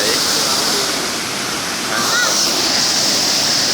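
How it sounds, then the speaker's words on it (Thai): A waterfall on Ko Chon, a nine-tier falls, pours nearby in a loud, constant roar of rushing water, with a voice briefly audible beneath the torrent. "น้ำสวยงามมากครับน้ำตกไหล"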